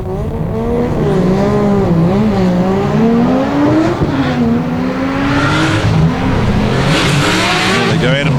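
A drift car revs hard through a run with wavering engine pitch and tyre squeal, loud and continuous, while a commentator talks over it throughout.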